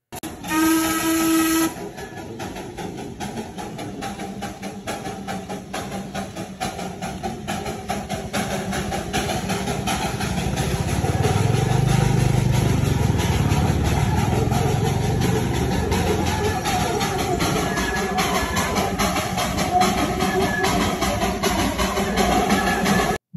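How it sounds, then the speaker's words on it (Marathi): A diesel railway locomotive runs while belching smoke, producing a steady, loud, broadband rumble and hiss that swells slightly midway and continues unbroken for over twenty seconds after a brief opening tone. "बघितलं हे कसं धुरकांड्या सोडत इंजिन चाललेलं आहे."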